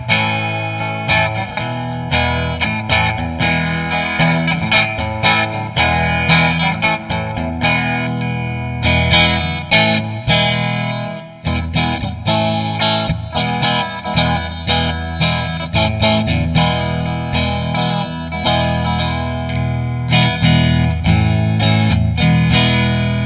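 Loud, distorted electric guitar through a Fender Twin Reverb amp, played continuously with strummed chords and picked notes, front pickup, thick with reverb and chorus-like shimmer, no voices.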